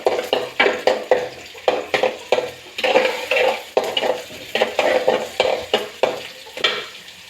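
Chopped onion frying in a pan while a spatula stirs it in a quick, regular rhythm, each stroke scraping over a bright sizzle, close and loud, with no talk.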